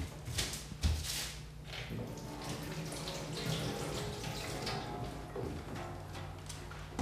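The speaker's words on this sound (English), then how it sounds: "the first thing we do, kids, before cooking is wash our hands" Hands are washed under a running kitchen tap before cooking, making a steady close rush of water with splashy spatter throughout. No one speaks.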